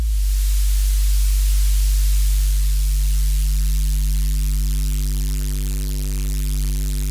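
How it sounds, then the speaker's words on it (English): A deep, sustained bass tone with gritty saturation distortion, buzzing overtones layered over a steady low rumble and a hiss, loud and continuous. "Increasing the saturation."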